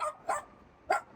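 A dog barks in a parking garage, three short sharp yips close by, two quick ones followed by a single louder bark after a pause.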